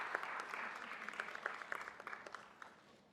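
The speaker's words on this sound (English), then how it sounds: "Can we have a big round of applause for her?" Applause at a city council meeting for Alana Flax Clark, Paralympic equestrian and disability advocate, a dense, steady patter of many hands from a room audience, fairly faint and even throughout.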